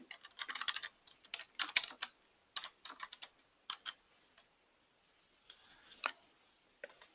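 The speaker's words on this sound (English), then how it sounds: "let me just type that back in there" Fingers type on a computer keyboard in short irregular bursts of crisp key clicks, close and fairly quiet, with small pauses and a quieter final stretch.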